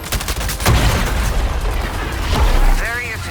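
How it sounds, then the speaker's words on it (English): Artillery strike explosions in the Suicide Squad: Kill the Justice League video game: two heavy booming blasts about two seconds apart, set against a dense, continuous roar of gunfire and battle noise, with a faint chirping game effect near the end. "Artillery strike dropping."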